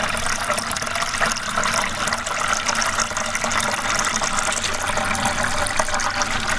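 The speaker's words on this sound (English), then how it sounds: "So the water is entering in here and filling up in here." Water gushes steadily into the bucket intake of a ram pump, a continuous, loud rushing and splashing with no pauses.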